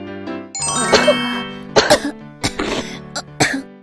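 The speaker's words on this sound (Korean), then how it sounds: "아, 기침을 조심해요." Several loud, close coughs in quick bursts from a children's cartoon, with tonal music playing underneath.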